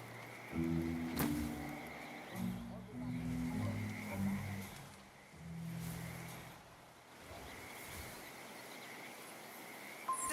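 Frogs croak in the habitat behind a house in Hitman: World of Assassination, with soft repeated low croaks over ambient game background and a faint steady insect-like hum.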